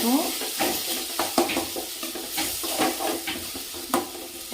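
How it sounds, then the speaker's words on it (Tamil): Peppers and onions sauté in a pan for Tamil kodai milagai thokku, a steady sizzle broken by repeated scraping stirs of a spoon against the pan, close and continuous. "நல்லா வதங்கிடுச்சு"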